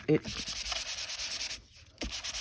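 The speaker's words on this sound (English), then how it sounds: "I might give that one a little bit of a sand" A journal cover is hand sanded for glue in quick back-and-forth strokes, a close rhythmic scratchy rasp with a short pause partway through before the rubbing resumes.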